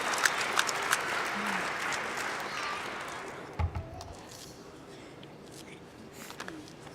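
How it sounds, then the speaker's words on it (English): An audience at a family reunification ceremony claps warmly, the applause steady at first and then thinning out, with a few scattered claps and faint background sounds as it fades. "Let's give Barry Jackson a great warm applause."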